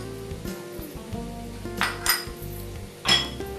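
A spoon scrapes and clinks against a pot while spiced potatoes are stirred with a paste, giving a few sharp metallic knocks over a low, steady kitchen background with no talking.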